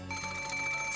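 A telephone rings in the visual novel game Umineko When They Cry, a steady electronic trill with bright sustained tones and a fast pulsing warble, moderately loud and heard alone.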